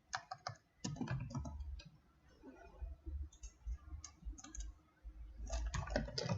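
Typing a command into a Jupyter Notebook setup on a computer keyboard: bursts of quick, close key clicks with a pause in the middle, then a denser flurry of keystrokes near the end.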